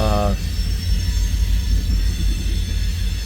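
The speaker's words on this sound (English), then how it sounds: "this is a gigantic westbound manifest that I chased from" Gigantic westbound Union Pacific manifest freight train passing close by, a loud continuous rumble of rolling cars with rail noise, following a brief horn-like tone at the start.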